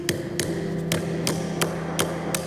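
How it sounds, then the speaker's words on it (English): A Sennheiser e 935 vocal microphone used as a hammer, driving nails into a wooden board: seven sharp, evenly spaced metallic taps ring out close and clear over a steady low hum. "we were able to actually put some nails into a wooden board with it"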